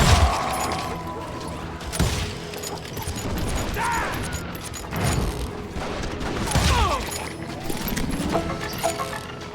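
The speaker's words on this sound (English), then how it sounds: "They're shooting in the street!" Gunfire in the street in the Western shooter game Call of Juarez Gunslinger: a run of sharp, loud shots and clattering bursts spread across the scene, mixed with mechanical clicks and game effects.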